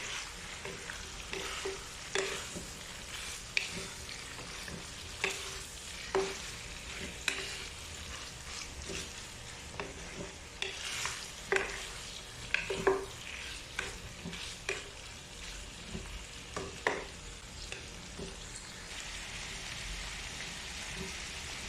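Beef liver igado frying in a pan is stirred with repeated scraping and clacking strokes over a steady, moderate sizzle, heard up close with no voices.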